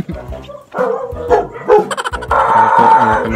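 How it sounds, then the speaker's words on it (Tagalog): Several dogs bark and yip at night in quick, overlapping bursts, loud and close, with a sustained howling whine toward the end. "Medyo maraming aso, maraming kalabang."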